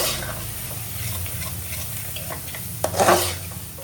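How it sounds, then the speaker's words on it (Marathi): Seafood boil masala stirred in a pan over a high gas flame, a close, continuous sizzle with scraping and a louder clatter near the end, no voices over it. "आणि छान सर्व अशा पद्धतीने मस्त मिक्स करूया"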